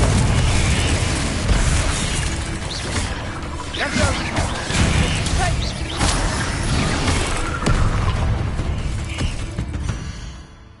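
The Confringo explosive spell goes off in Hogwarts Legacy with a loud, rumbling blast. Crackling bursts and booms sit over dense low-end noise and keep going for about ten seconds before fading at the end.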